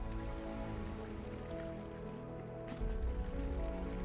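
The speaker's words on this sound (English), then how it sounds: "put the full quantity of water in" Bottled water pours into a homebrew vessel for a French pilsner mash, a steady close splashing gush with bubbling and trickling that swells louder near the end.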